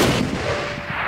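A single Springfield rifle shot in a Minecraft WW2 gun mod, a sharp loud crack with a short booming decay, heard alone.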